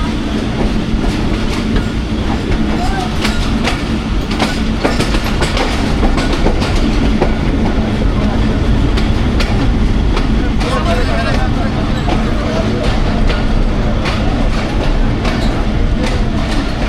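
The Jaffar Express clatters loudly on its tracks between Attock City and Rawalpindi in Pakistan, a constant rumble with rhythmic clicks and rattles throughout.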